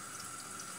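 Water pours steadily from a tap to rinse sheep intestines being cleaned, a faint continuous hiss of running water.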